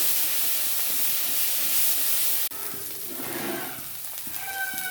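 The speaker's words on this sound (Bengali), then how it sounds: "মশলা ভেজে নেব ভালো করে।" A loud, steady sizzling hiss of spices frying in hot oil, briefly cut then resuming with crackling pops.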